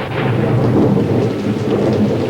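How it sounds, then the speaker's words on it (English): Rain and thunder pour through a hole cut in an indoor ceiling, a loud, steady downpour with deep rumbling thunder rolling throughout, close and continuous, with no voices. "Gary Grouch cut a hole in the ceiling to let in the rain."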